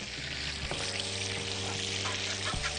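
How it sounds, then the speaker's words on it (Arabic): Butter heating and melting in a pan for béchamel sauce, a steady loud sizzle with a couple of faint clinks of utensils. "والزبده كده تسخن وتسيح."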